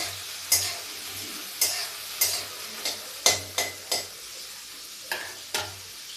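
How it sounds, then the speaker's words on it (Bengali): Diced bottle gourd pieces frying in hot oil in a pan, a steady soft sizzle broken by repeated sharp scraping stirs of a spatula at irregular intervals. "এবার গরম তেলের মধ্যে কিন্তু আমি লাউটাকে একটু সামান্য ভেজে নেব"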